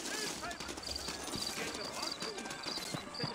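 Steady clip-clop of horse hooves in Red Dead Redemption under continuous background noise and chatter, a busy New Orleans street scene with overlapping voices.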